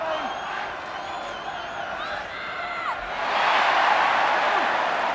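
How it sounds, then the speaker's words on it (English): Rugby stadium crowd at the 1993 All Blacks versus British & Irish Lions final test, a steady murmur of voices and whistles that swells into a loud, sustained cheer about three seconds in. "Oh, they're cheering at every line-out win."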